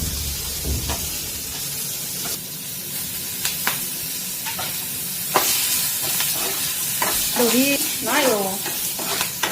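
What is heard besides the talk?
frying pointed gourd (potol) in a pan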